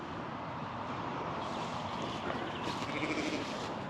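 Sheep bleating at an outdoor lambing beside a newborn lamb, heard faintly through steady wind noise outdoors, with no clear distinct calls standing out above the broadband rush.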